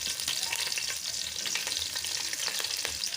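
Whole spices like cumin, cinnamon, cloves and cardamom with green chillies fry in hot oil for fish biryani, giving a loud, steady crackling sizzle close up with no voices.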